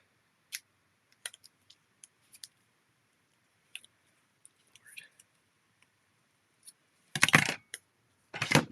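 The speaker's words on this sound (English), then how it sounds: "I know how scissors operate. Snip, snip, snip." Scissors snip through paper card in a craft session making a pop-up pillar card, sharp isolated clicks scattered at irregular intervals, ending in a denser rustling cluster of cuts, close and quiet.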